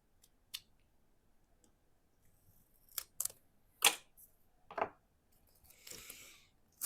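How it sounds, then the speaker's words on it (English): Scissors cutting a large piece of foam tape during a card-making craft, a few sharp separate snips and clicks at close range with a brief rustle near the end, otherwise quiet. "let me just cut off a big old piece of this"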